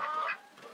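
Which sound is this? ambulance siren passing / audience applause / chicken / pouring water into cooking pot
chicken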